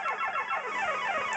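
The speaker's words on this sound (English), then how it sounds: "Got the extra life, you heard the alarm go off" An extra-life alarm from the NES game Ms. Pac-Man, a loud, rapidly repeating electronic siren of falling warbling tones that continues steadily without pause.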